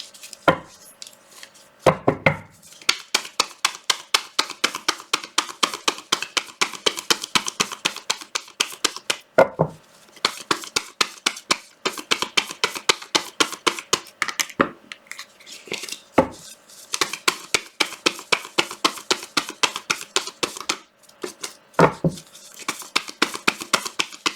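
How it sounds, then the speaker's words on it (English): Tarot cards shuffled on a lap, a rapid run of crisp riffling clicks in repeated bursts with brief pauses between them, close and fairly loud. "I have to shuffle on my lap."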